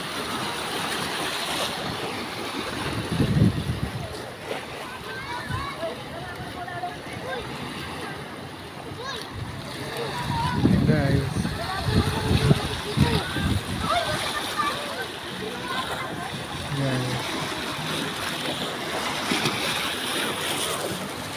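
Sea waves wash and splash at a beach resort in Ternate, Cavite, in a continuous rolling surf with louder surges partway through, heard close. A voice talks over it.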